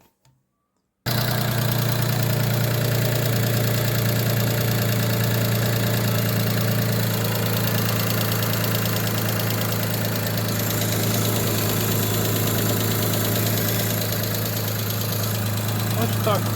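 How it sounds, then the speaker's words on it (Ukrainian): After a second of silence, a Daewoo Matiz engine cranks and catches after cooling system repair, then settles into a steady, loud idle with a faint rattle, no voices. "запустимо двигун, має піти все."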